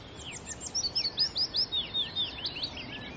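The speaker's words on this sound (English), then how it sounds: "And that's a willow warbler singing" A willow warbler sings a fairly faint, high descending phrase of quick sweet notes during a dawn chorus in Cumbria, standing alone over a quiet outdoor background.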